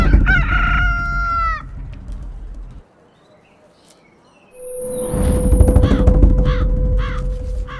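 A crow caws loudly in two close bursts of harsh repeated calls, the bursts separated by a brief silence and the second accompanied by a steady whining tone.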